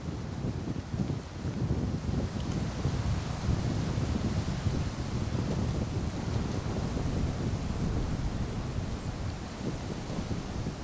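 Strong wind roars steadily across open Patagonian terrain, a dense, continuous buffeting rumble with gusty low-end bursts that never lets up for the whole stretch.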